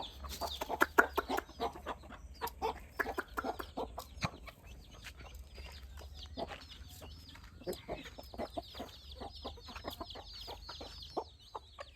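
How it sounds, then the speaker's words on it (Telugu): Chickens cluck and peck busily at sprouted paddy seeds while chicks peep in high, rapid chirps, a continuous farmyard chatter with sharp pecking taps. "చూడండి మిత్రమా నేను మేత వేస్తే చిన్న కోడి పిల్లలు ఎలా వచ్చాయో"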